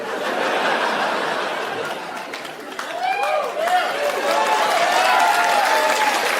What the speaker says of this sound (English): Let that motherfucker clap.